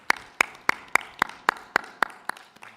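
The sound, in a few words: audience applause for the panelists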